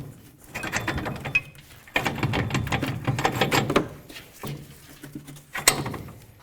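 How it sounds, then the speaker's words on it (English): A bolt slides through a new upper control arm on a 2007-or-later Toyota Tundra, giving close metallic scraping, clicking and rattling in several short bursts. "Now let's slide the bolt up and in here."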